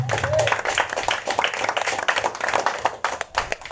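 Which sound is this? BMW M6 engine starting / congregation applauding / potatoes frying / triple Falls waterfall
congregation applauding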